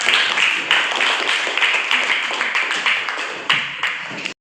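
A classroom full of people applauds together in a dense, steady patter of many hands that carries on for several seconds before stopping abruptly.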